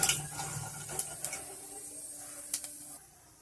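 Nigella seeds hit hot oil left from frying flat beans, a soft crackling sizzle at first, then a few sharp clinks of a utensil against the pan before the hiss fades away.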